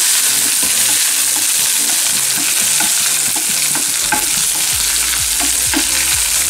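Shallots, curry leaves and green chillies fry in hot oil with popped mustard seeds for a Kuttanadan fish curry, a steady loud sizzle running throughout with repeated scraping stirs of a spoon against the pan.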